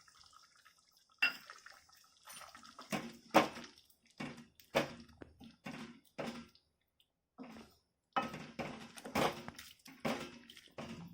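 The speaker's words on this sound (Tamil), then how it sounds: "இப்போ பாசிப்பருப்பை ஊற்றிடலாம்" Wet splashing and dripping as thick cooked moong dal is poured into a pot of Chettinad onion kosu, in uneven bursts with brief pauses, close by with a few metallic clinks.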